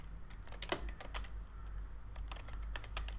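Quiet keystrokes on a computer keyboard tap out in quick irregular bursts, a brief pause in the middle, then another rapid run of clicks, all soft and close with low room hum behind.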